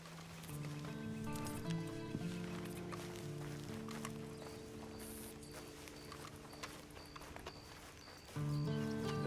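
Horse hooves clip-clopping in the Western game Red Dead Online, a steady walking gait under a bed of sustained music tones, with a brief whinny-like note and the music swelling louder near the end.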